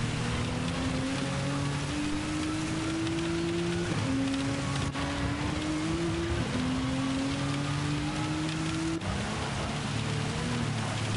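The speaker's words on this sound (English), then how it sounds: "With this much torrential rain, anything can happen." Torrential rain hisses steadily in a racing video game, a dense wash of noise over the whining, rising and falling engine tones of racing cars shifting through gears.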